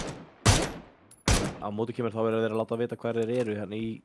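Two loud gunshot bursts from a PUBG battle-royale match crack out near the start, followed by an excited commentator talking over the game.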